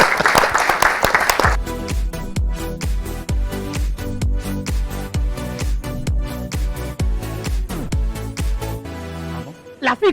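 A studio audience at a Beninese television talk show, Le Grand Canal, bursts into a short round of applause that quickly gives way to loud rhythmic music carrying on to the end.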